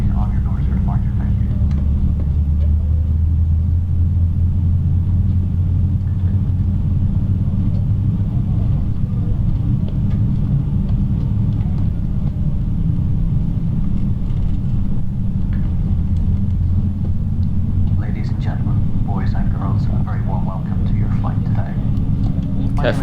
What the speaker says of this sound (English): we'll have a look at engine 1 rise